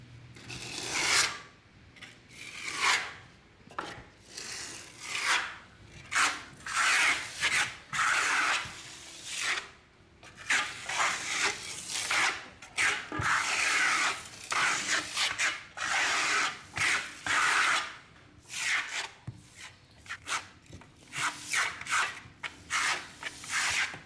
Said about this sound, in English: This is a tool traditionally for Venetian plaster. It's a Japan scraper.